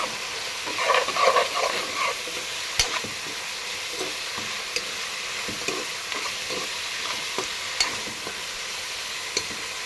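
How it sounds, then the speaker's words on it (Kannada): Turmeric being stirred into cauliflower and tomato curry frying in a pan, a steady close sizzle with scraping spoon strokes throughout, no voices. "ಈಗ ನಾನು ಒನ್ ಟೇಬಲ್ ಸ್ಪೂನ್ ಆಗುವಷ್ಟು ಅರಿಶಿನ ಹಾಕಿ ಮಿಕ್ಸ್ ಮಾಡ್ತಾಯಿದ್ದೀನಿ"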